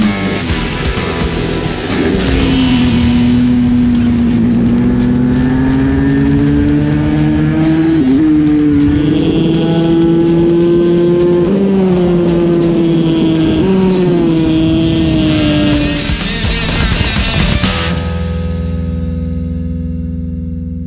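A Vent supermoto motorcycle ridden hard around a race track at the Polini Italian Cup, its engine note rising and falling steadily through gear changes for about seventeen seconds before cutting back abruptly, loud and close throughout.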